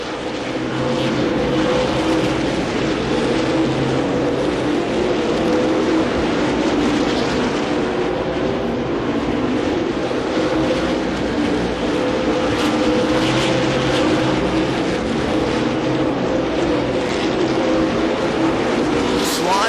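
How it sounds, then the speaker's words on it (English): Super late model stock cars race at Slinger Speedway, a steady loud roar of engines throughout, with a commentator talking over the continuous drone. "Dennis Prunty back in the mix as well in the 22 car"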